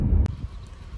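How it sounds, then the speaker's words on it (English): Low rumbling wind in the Georgia outdoors buffets the microphone for a moment, with a brief sharp tick partway through, then fades to a softer steady rush. "It's really windy out here, annoyingly enough"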